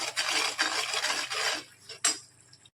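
A spoon scrapes and stirs garam masala through a methi curry in a metal pan, several brisk rasping strokes followed by a couple of sharp clinks against the rim, close up and without speech.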